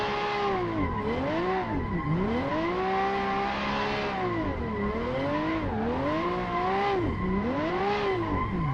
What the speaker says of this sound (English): We can drift it though, we can drift it real nice.